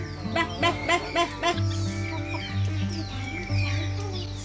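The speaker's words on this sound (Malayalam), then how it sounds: "അപ്പോൾ നമ്മുടെ കോഴികളൊക്കെ നന്നായിട്ട് തന്നെ കഴിക്കുന്നുണ്ട്" Several backyard chickens clucking and calling while eating leftover rice, close and loud, with a run of sharp repeated clucks at first, then lower murmuring clucks and warbles overlapping throughout.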